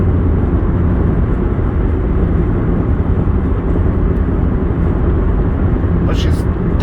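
A 2000 Subaru Outback with a five-speed manual cruising at 72 mph around 3,500 rpm, giving a steady, smooth engine drone mixed with road and wind noise inside the cabin.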